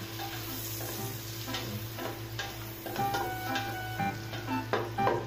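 Nearly a kilo of onions stir-fried in a pan alongside broccoli, squid and okra: a steady close sizzle with intermittent scraping and tapping of the spatula against the pan, fairly quiet, with no talk.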